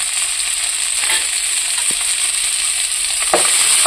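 Sliced onions sautéing in hot oil for a chicken curry, a loud dense hiss of frying held steady throughout with a couple of faint stirring knocks.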